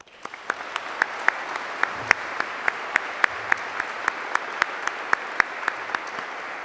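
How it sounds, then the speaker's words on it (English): An audience claps steadily at an ROTC commissioning ceremony, with scattered sharper individual claps standing out over the sustained applause, and no talking. "Please join me in applause for Lieutenant Colonel Hoblin, Lieutenant Colonel McNally, and the alumni like them who have answered our country's call."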